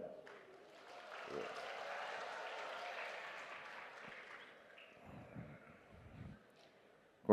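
Audience applause at a school inauguration event in Indonesia, a broad, sustained wash of clapping that swells early, lingers at moderate level, then thins into scattered claps near the end.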